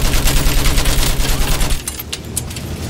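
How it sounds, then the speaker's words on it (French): Sustained machine gun fire in the Battlefield 1 single-player campaign, a loud, dense rattle of rapid shots that carries on steadily and then thins into scattered bursts toward the end. "Feu avec cette mitrailleuse!"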